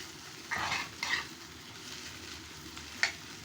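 Onions fry in a pan for an Egyptian bissara dish, a quiet sizzle broken by three or four brief stirring scrapes that clink against the pan.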